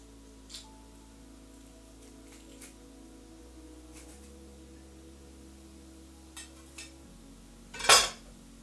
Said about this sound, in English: I should have unloaded the dishes before starting this stream.